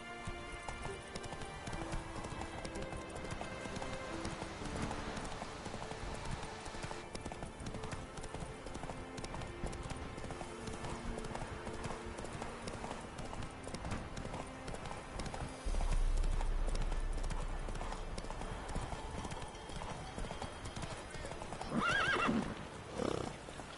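Roach, a horse in The Witcher 3, clip-clops steadily at a gallop through most of the stretch, with a loud whinny breaking out near the end over a constant game backdrop.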